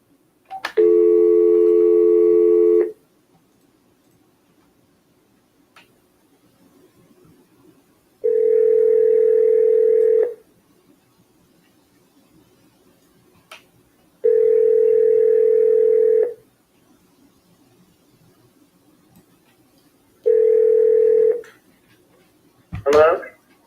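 Telephone ringback tone on an outgoing call: four long, loud, steady tonal bursts of about two seconds each, separated by quiet gaps, ending with a brief click as the line picks up.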